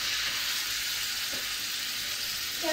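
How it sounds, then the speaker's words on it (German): Steady, soft sizzling and crackling of a seasoned turkey steak frying in a hot pan, continuous hiss with a faint clink near the end. "das Steak in die Pfanne."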